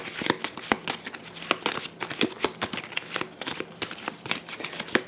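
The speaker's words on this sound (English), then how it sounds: "We're just going to take these and shuffle them real quick." Playing cards being shuffled by hand at close range, a rapid run of crisp riffling flutters and sharp snaps repeating steadily without talk.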